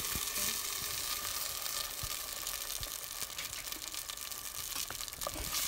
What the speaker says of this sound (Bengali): তৈলটা একটু গরম হয়ে আসার পর আমার পূর্বের তৈরি করা এই রসুন আর পেঁয়াজের পেস্টটা পাতিলের মধ্যে এখন দিয়ে দেব।